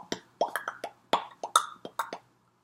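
Bongos playing a short percussion part in stock music, about a dozen crisp, hollow hand strikes in a quick, uneven rhythm, close and dry, with no voices.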